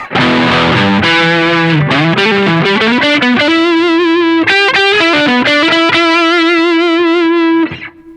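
A distorted Les Paul electric guitar on the neck pickup plays a bluesy lead line with bends and sustained notes, full and warm, loud and close, with no talking.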